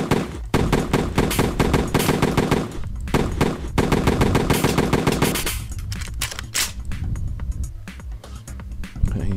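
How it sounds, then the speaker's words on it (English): Rapid gunfire in a first-person shooter game test with particle effects, bursts of machine-gun-like shots loud and continuous, briefly pausing then resuming with more scattered shots toward the end. "he's trying to shoot me from all the way down there"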